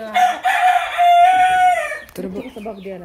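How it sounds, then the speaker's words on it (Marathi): A free-range village rooster crows loudly and close, one long drawn-out call, followed by village chickens clucking nearby. "अशा आहेत कोंबड्या भरपूर आहेत त्यांच्याकडे"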